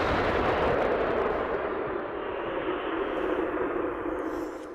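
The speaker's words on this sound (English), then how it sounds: "After every shot, the team reloads their self-propelled artillery, awaits updated coordinates, and fires again." Self-propelled artillery fires a single powerful round on the Lyman front in Ukraine, a broad roaring blast that slowly decays into rumbling echo, heard at a moderate distance without speech.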